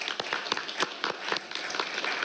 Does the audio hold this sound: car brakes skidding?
no